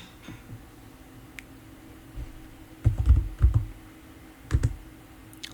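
Typing on a computer keyboard: scattered soft taps, then two short bursts of quick, close keystrokes, with no talking.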